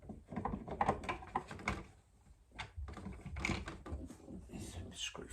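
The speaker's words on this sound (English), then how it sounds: "now we'll take this plastic trim off as well so I don't damage that." Plastic door trim being pried and handled on a Ford Escort RS Cosworth, with irregular close clicks, knocks and scraping bursts separated by a brief quieter pause.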